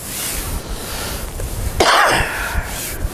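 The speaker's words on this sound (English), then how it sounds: "Still battling this cough from 2 weeks ago" A single harsh cough from a lingering two-week cough bursts out, fairly close and loud, over a steady windy outdoor background while fishing at the water's edge in cold weather.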